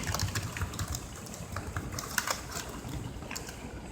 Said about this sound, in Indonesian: tahapan kedua adalah kita lakukan pengecekan dengan cara kita memijit semua tombol keyboard